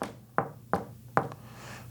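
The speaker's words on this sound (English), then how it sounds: "there was a knock behind this camera, this is what it sounds like on the wireless mics" Three sharp knocks on a surface behind a camera, picked up by wireless microphones in a room during an investigation, evenly spaced, distinct and moderately loud with a short room decay.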